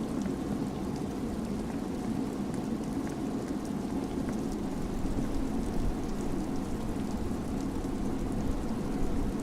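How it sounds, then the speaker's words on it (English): Rain in the video game Disco Elysium, a steady dense hiss of falling drops that stays constant throughout with no other sounds. "It's raining again."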